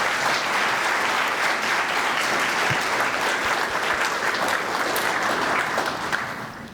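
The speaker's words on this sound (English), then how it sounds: "Please give her a round of applause." Sustained, dense applause from a large audience greeting the mayor at a State of the City address, a continuous roar of clapping holding steady for several seconds before easing slightly at the end.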